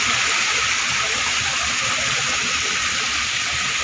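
An artificial waterfall at Shilparamam in Hyderabad pours steadily, a continuous close rushing and splashing roar with no breaks.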